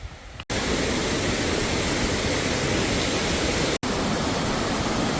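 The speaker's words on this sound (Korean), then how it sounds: "오랜만에 계곡물이 흐르네요." A mountain valley stream in Seoraksan rushes steadily as a loud, close, continuous broadband roar, with two brief cuts to near silence, and no voices.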